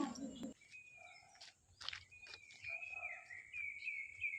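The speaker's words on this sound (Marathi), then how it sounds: "या शांततेत पक्ष्यांचा मंजूळ आवाज इतका सुखदायक वाटतो ना" Birds sing thin, sustained whistling notes with short chirps in a quiet forest, moderately faint against a quiet outdoor background, with a brief rustle near the start.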